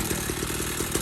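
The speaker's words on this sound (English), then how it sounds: "We're gonna try to crank it with the choke off." A 49cc dirt bike engine cranks and catches with the choke off, its buzzy, rough putter pulsing in quick uneven beats up close for about a second, with no talking.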